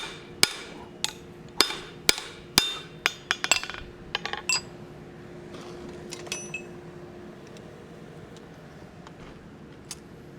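Sharp metallic hammer strikes drive a drift through forged steel for a hammer handle eye, ringing in a steady series, then tapering into lighter, sparser taps and faint clinks.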